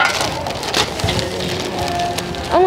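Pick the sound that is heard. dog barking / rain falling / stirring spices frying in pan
rain falling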